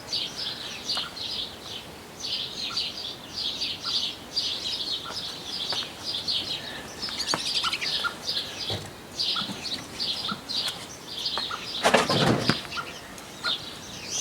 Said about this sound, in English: So as you probably heard then, we're getting joined by birds, guinea pigs, dogs.